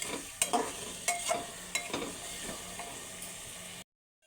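Ghugni masala being stir-fried in a pan, a soft steady sizzle broken by several scraping stirs of a spatula, fairly quiet and close, then abrupt silence at the end.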